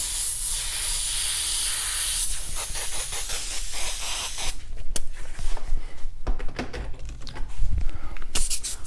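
An airbrush sprays paint onto a T-shirt, a steady hiss at first that turns into short, uneven bursts of spraying and rubbing, close and fairly loud with no voices.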